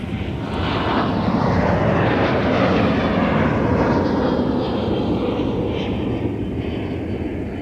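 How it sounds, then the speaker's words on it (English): Amazon Air jet operated by Atlas Air at Minneapolis–Saint Paul airport, a loud continuous engine roar with a broad rushing sweep as it passes nearby. "So that technically on Flight Radar says Amazon Air, operated by Atlas Air."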